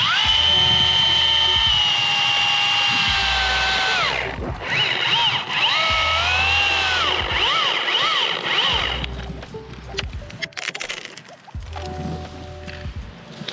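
A chainsaw making the back cut on a tree whines loudly and close, its pitch rising and falling as the bar bites into the wood, continuing for over thirteen seconds with rougher, choppier stretches toward the end.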